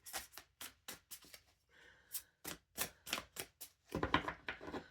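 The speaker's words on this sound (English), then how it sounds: "now shuffling" Tarot cards are shuffled in a series of sharp, rapid riffling bursts, close and fairly loud, with brief pauses between them and a denser flurry at the end.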